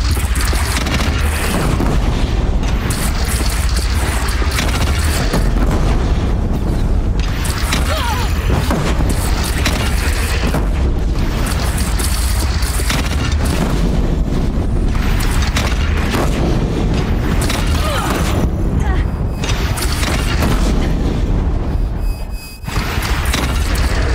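Cannon fire and explosions from a bandit battle in the video game Horizon Zero Dawn, heavy booms and bursts rolling continuously under dense game noise and music, loud throughout with a brief drop near the end.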